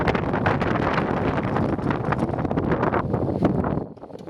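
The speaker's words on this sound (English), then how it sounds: "the sustained gusts were strong enough to knock me over" Loud, sustained wind buffets the microphone in a continuous roar at a building site, with rustling gusts that ease off near the end.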